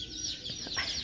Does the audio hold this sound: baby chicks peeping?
yes